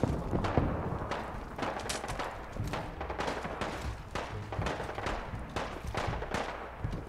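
Gunfire in the video game Fallout 4: dense, continuous bursts of shots and rattling fire, steady and fairly loud throughout, with no clear gaps or speech.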